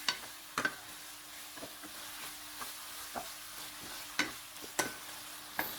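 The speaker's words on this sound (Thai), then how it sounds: "ผัดทุกอย่างให้สุกให้เข้ากันอีกทีหนึ่งครับ" Pork neck stir-fried with two-colour chili peppers in a wok, a steady sizzle with irregular sharp clanks and scrapes of a spatula against the pan, close and alone without talk.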